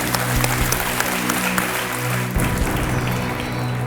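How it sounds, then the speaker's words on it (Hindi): Studio audience applause on the Kaun Banega Crorepati quiz show set, a dense steady clatter of many hands over a low hum, running throughout without speech. "तालियों के साथ आपका स्वागत है"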